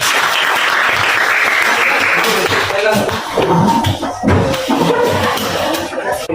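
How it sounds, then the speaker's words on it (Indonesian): Applause from participants at a teacher coaching session for academic supervision, a steady wash of clapping with voices mixed in that thins and becomes patchier toward the end. "Tepuk tangan buat kita semua."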